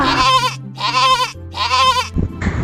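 A cartoon goat bleats three times in a row, loud and close, each a long wavering cry with short gaps between, ending with a brief clattering noise.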